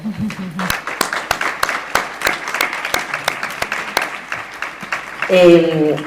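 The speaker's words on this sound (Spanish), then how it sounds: "es lo que te pierdes, este aplauso en directo que estás aquí" Live audience applause at an evening film colloquium in Sádaba, with steady clapping running throughout alongside some talk, and a voice rising near the end.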